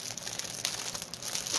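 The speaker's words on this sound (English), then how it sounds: "it's in this crazy plastic bag that you know I just absolutely despise" A plastic bag around a diamond painting kit crinkles and rustles close up, steady handling noise for a moment.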